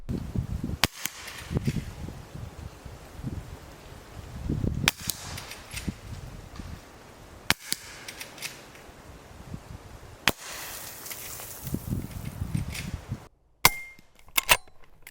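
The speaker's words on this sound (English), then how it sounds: "I'm going to fire over my extraordinarily expensive camera gear just for you guys" Four sharp, muffled gunshots from a suppressed .38 Special revolver, spaced a few seconds apart, each a quick crack with faint mechanical clicks between them.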